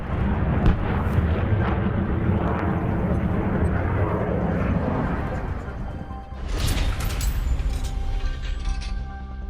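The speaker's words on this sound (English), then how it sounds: "B-52 bombers." Massive eight-engine B-52 bomber roars in a loud, sustained rumble of jet engines, with a brief dip around the sixth second before the heavy drone swells again.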